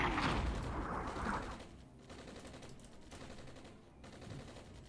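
Distant, rattling bursts of gunfire from an Armored Brigade wargame battle, loudest at the start and then thinning into a steadier low rumble of continued firing.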